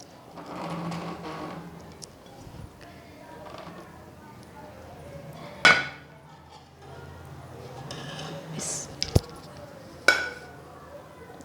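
Beef white pulao is dished out with metal utensils: scattered scraping and a few sharp clinks of spoon on pot and plate, heard under someone talking.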